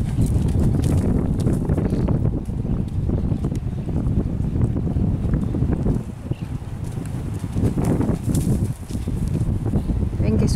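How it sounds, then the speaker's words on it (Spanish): A chestnut ranch horse with four white socks gallops at an easy, long stride, hoofbeats thudding steadily under heavy wind buffeting the microphone and a voice talking over it. "Caballo de galope cómodo, galope largo."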